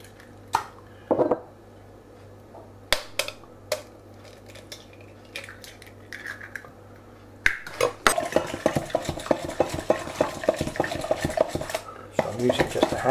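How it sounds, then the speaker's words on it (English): Metal hand whisk clattering rapidly against a bowl while beating eggs into scone mixture, starting with a few separate clinks and then settling into dense, quick rhythmic tapping; no one speaks. "I'm using just a hand whisk for this, not doing it too much, just to make sure it's all incorporated and beaten."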